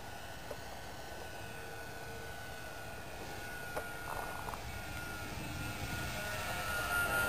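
A model airplane engine at an AMA flying field drones overhead, a thin, fairly faint whine carried over a broad outdoor wash that swells slightly toward the end as it passes.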